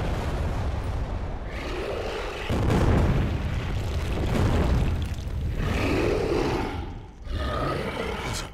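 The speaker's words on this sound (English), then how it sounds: "God, those explosions look bad." Dense, roaring explosions in the video game Prototype 2, loud overlapping booms and rumbling blasts rolling continuously with brief gaps between waves.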